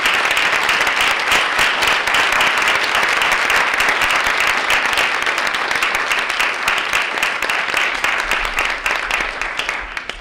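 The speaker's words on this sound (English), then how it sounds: "let's give all of our honorees a round of applause" Loud, dense applause from a large crowd at an alumni celebration reception for honorees fills the whole stretch, steady and continuous before tapering slightly at the end.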